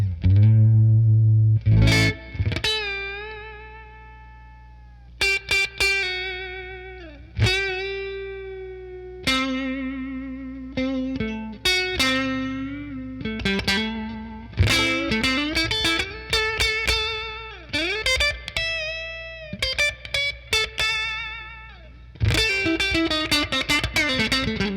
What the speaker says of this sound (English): we're going to hear a nice little bit of a breakup on this clean sound